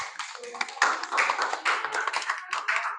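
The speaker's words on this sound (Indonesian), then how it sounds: "terima kasih, tepuk tangan ya." Children in a classroom clapping their hands in a lively, uneven burst of many claps, close and fairly loud, with sharp individual slaps standing out.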